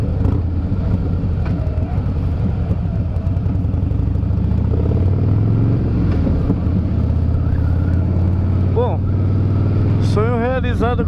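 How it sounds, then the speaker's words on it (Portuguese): A Harley-Davidson motorcycle engine rumbles steadily and loud throughout while riding, with someone talking over it and a brief rising whine near the end. "O motor é muito delicioso, né, meu? Ele, você puxa, ele vai"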